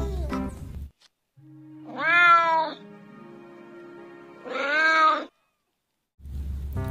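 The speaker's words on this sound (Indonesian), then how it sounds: "Kalau ini kucing, lucu sekali." A cat meows twice, long drawn-out cries close by, separated by a pause with faint background hum.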